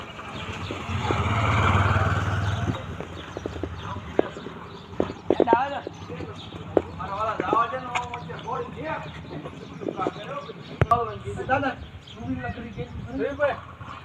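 Horse hooves clip-clop on a road as the animal is ridden home, irregular clopping beats mixed with passing engine noise and someone talking loudly over much of it.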